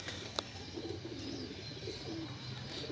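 A pigeon coos softly in a low, faint, murmuring call, with a brief sharp click early on against a quiet background.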